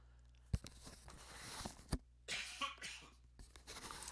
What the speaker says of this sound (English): I apologize for all these coughs